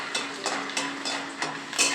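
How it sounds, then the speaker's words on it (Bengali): Peanuts frying in a pan, a soft sizzle under a few sharp scraping stirs that come at roughly even intervals, close and clear. "এই বাদাম ভাজা হচ্ছে"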